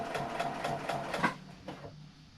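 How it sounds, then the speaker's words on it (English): A sewing machine stitches in short bursts over a tote bag strap, a quick rhythmic needle clatter that stops and restarts, fairly quiet and nearby. "I'm holding on to this strap just to make sure that it doesn't go for a walk when I sew over it"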